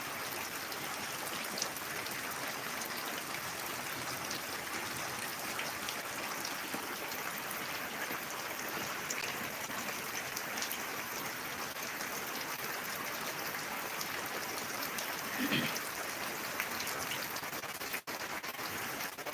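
Heavy rainwater runs steadily into a borewell being recharged during a downpour, a dense, continuous hiss of flowing and splashing water that stays even and loud throughout, with no voices.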